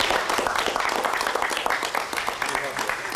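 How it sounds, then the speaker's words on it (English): A small group of people clap together in a brief burst of quick, uneven hand claps, fairly close, with voices talking over the clapping. "Should we give him a clap?"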